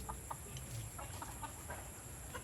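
Native chickens cluck faintly in short, scattered calls over a low, steady background hum, somewhat distant.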